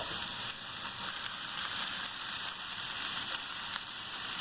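Spinach and onion sizzle in a frying pan, a steady, quiet crackling hiss that runs unbroken with no talking over it.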